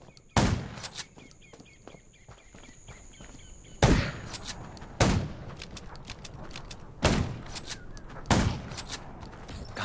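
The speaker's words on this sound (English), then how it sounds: "Gunshots will attract more." Gunshots in the Undawn zombie survival video game: about six sharp, loud single shots spaced a second or more apart, each cracking out and decaying, over quiet outdoor ambience with faint bird-like chirps.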